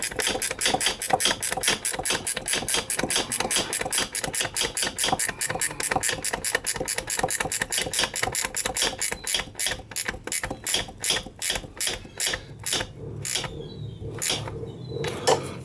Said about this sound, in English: with a 10mm ratchet spanner, we're going to tighten up the clamp